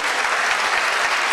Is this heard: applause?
yes